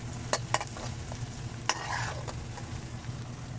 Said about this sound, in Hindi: ये हमने कढ़ाई में प्याज डाल दिए हैं